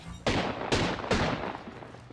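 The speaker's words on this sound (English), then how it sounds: "Shots fired, and they're hitting me." Gunfire in the video game Apex Legends: three sharp, loud shots ring out about half a second apart, each with a booming tail, close and unaccompanied by talk.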